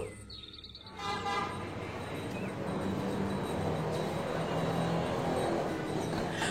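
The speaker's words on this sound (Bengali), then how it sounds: "ট্রেন আবার বাস্তব জীবনের ব্যস্ত শহরাঞ্চলে ছুটে চলল।" A train rumbles along steadily and loudly, with a brief horn toot at the very start before the continuous clatter of the wheels takes over.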